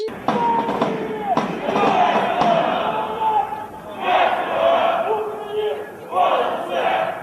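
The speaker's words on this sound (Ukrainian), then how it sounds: "Йдучи колоною, вони вигукують патріотичні лозунги" A column of young people marching through a city center shouts patriotic slogans in rhythmic unison, loud crowd chants rising and falling in repeated phrases with short pauses between them.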